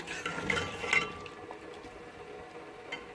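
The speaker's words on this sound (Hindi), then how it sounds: "ये अच्छी तरह से भुन रहा है और इसका घी भी जो है वो बाहर निकल रहा है अच्छी तरह से" Chicken gizzards frying in ghee in a pan, a steady soft sizzle with a few brief stirring scrapes and clinks near the start, then settling into a quieter, even crackle.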